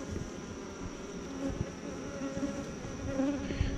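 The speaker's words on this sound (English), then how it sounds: "These are very gentle bees anyway." A steady, close hum of many honeybees buzzing together at a hive during a mated queen introduction, with a few individual passes rising briefly above the swarm.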